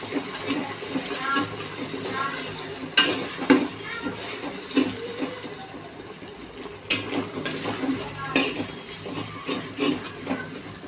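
Ginger garlic paste fries in a pan with a soft ongoing sizzle, punctuated by several sharp scrapes and clatters of a spatula stirring; someone talks over it.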